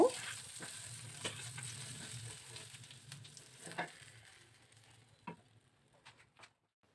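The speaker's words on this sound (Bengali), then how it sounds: "এক পাশ মাছটা ভাজা হয়ে গেলে এরপর অপর পাশটা উল্টে দিব।" Soft sizzling of fish frying in a pan, with occasional clinks and taps, fading quieter toward the end; no talking.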